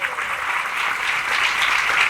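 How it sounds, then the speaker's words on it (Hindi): A church congregation claps in a steady, dense burst that stays even and fairly loud throughout, with no voice over it. "तालियां बजाओ।"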